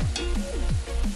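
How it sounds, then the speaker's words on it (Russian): A steak sizzles and crackles in a pan, frying uncovered, with a dense, continuous hiss close up and a few faint tonal sweeps over it. "Все, теперь жарим без крышки."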